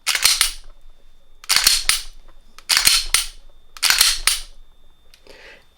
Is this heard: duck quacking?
no